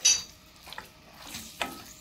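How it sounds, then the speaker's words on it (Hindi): Ginger, garlic and chili paste is sautéed with minced meat in a pan, with a spoon scraping and clinking against the metal in a few sparse, fairly close strokes over a quiet low sizzle. "इसमें ऐड कर देंगे जिंजर गार्लिक और चिली पेस्ट, जो कि मैंने हाफ टी स्पून ईच लिया था, और इसको अच्छे से भून लेना है"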